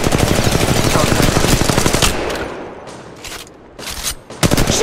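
Dense automatic gunfire from Apex Legends Mobile, a sustained rapid machine-gun burst for about two seconds, then scattered shorter volleys and single cracks, loud and close.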